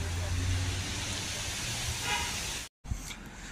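Cars stuck in a long traffic jam on a mountain road near Manali, a steady rumbling engine and road hum close by, with a brief cut near the end.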